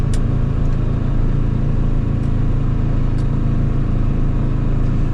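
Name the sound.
microcar engine driving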